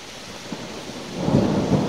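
Thunder rolls low over steady rain by an abandoned turnpike tunnel on a hillside, the rumble swelling louder toward the end with no voices.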